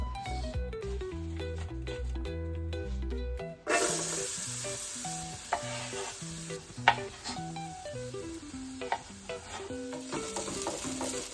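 Onions frying in olive oil in a pan, a bright steady sizzle that swells in suddenly and keeps going under music, with occasional stirring knocks.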